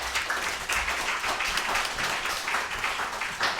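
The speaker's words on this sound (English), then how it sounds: "can we get a round of applause for everybody?" An audience at a report launch event gives a round of applause. Steady, even clapping from many hands holds at a constant level throughout.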